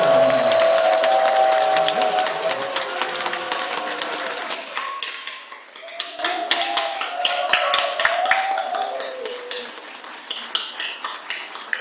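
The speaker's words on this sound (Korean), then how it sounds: "문광 스님께 큰 박수로 맞이해주시기" A crowd at a Buddhist Dharma service applauds to welcome a monk, dense clapping running the whole time beneath a voice and some tonal sounds, thinning midway before picking up again with distinct claps.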